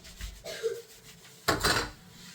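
A scrubber rubs across a kitchen counter in short strokes, giving a brief scrape and then a louder, rougher burst of scrubbing near the end.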